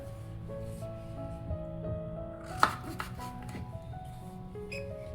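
Knife chopping raw papaya into small pieces on a board, a few soft, irregular cuts with one sharper knock, quiet and close.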